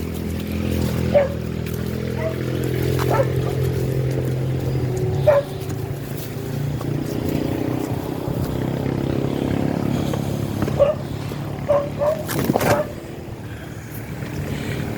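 A dog on a farm barks a few scattered times from some distance, short sharp yaps standing out over a steady low rumble of engine or vehicle noise.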